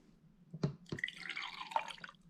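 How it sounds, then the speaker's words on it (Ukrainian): Water holding strawberry seeds is poured gently from one glass into another, starting with a couple of quiet close drips and then a soft, brief trickle. "Тепер переливаємо обережно, тихенько рідину у іншу склянку."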